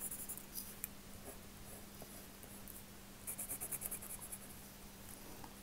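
A pencil is swatched on paper for a test, giving soft, faint scratchy strokes in short bursts, with a denser run of scribbling near the end, close and quiet with no talking.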